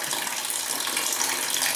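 Water gushes steadily from an opened tap on a simple water level controller setup, a continuous broadband hiss that stays loud and even throughout with no voices.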